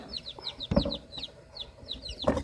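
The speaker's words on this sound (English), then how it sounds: "This is our little chicken pen with the flipper." Chickens in a small backyard pen give repeated soft clucks and chirps, with a few louder squawks and rustles close by.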